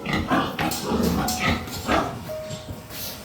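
Pigs on a farm, a pen of about fifteen, grunting and squealing near and far in overlapping calls throughout.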